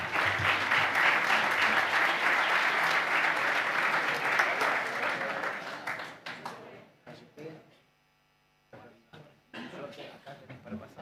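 An audience gives a welcoming round of applause for an economist at a public forum, loud sustained clapping that tapers off after about six seconds into scattered claps, then a brief silence before talking begins.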